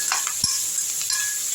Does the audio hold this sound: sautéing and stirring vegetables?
yes